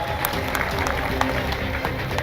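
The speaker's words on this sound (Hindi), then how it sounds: "जरा उसके लिए जोरदार तालियां बजा दो भैया" Crowd at an outdoor political rally in Ashoknagar clapping, a dense continuous noisy roar of applause mixed with voices.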